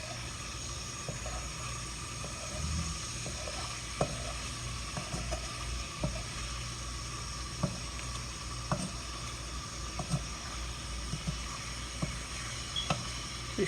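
Coconut cream sizzles steadily in a pan as its oil cooks out, with scattered scraping knocks from a utensil stirring and scooping down the sides, close and continuous.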